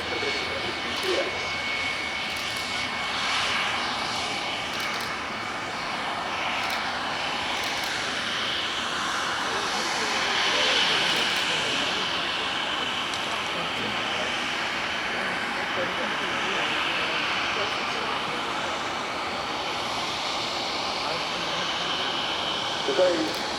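A U-2S Dragon Lady spy plane flies a display at the RIAT air show, its jet engine a steady distant roar that swells slightly midway, while a commentator talks over it throughout.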